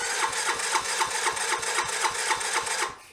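A Sym Symba 100 motorbike engine cranks over with a steady, rapid rhythmic chugging of about a dozen even strokes, loud and close, before stopping abruptly.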